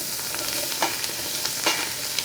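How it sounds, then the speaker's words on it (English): Mirepoix sizzles and browns in a hot pot over high heat, a steady loud frying hiss with occasional crackles and stirring scrapes, no voices. "So we'll add in our mirepoix now. We're going to get this all nice and browned up."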